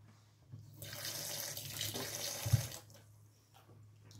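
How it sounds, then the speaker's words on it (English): Tap water runs into a sink for about two seconds while hands are washed, a close, steady hiss with a small clunk near the end before it stops, over a low hum. "I will wash my hand again."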